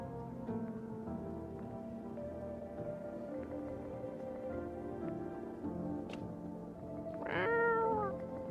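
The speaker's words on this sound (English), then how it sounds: "You reach out and pet the cat." A cat in a video game gives a single short meow near the end, heard over a steady low ambient bed with soft rain-like patter, fairly close and with no talking.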